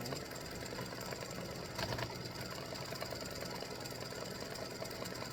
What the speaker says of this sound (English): now it's going to do the satin stitching around that O